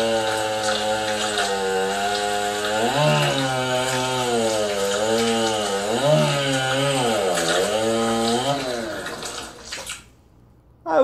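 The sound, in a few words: chainsaw running in a video game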